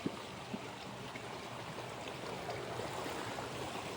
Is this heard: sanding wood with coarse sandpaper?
no